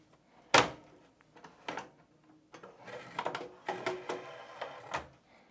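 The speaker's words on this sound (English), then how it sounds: "Now, carefully remove the MDC cards from the back of the chassis." MDC cards sliding out of the back of a VM130/AM230 amplifier chassis: a sharp metallic click, then a series of scraping slides and small knocks of metal against metal, close and fairly quiet, with no talking.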